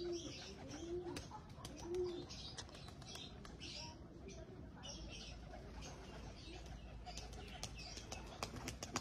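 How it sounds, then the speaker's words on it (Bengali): Racing pigeon cooing softly in low, rolling calls near the start, over quiet outdoor ambience with chirps from other birds and faint clicks. "এই যে কবুতরটা মাত্র নামলো"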